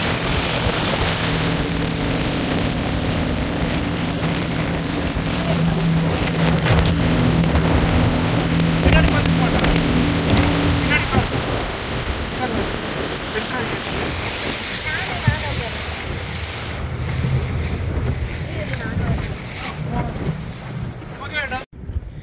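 A speedboat cruises on the Alleppey backwaters in Kerala, its engine drone and rushing water and wind roaring loud and continuous throughout, with voices faintly under the noise.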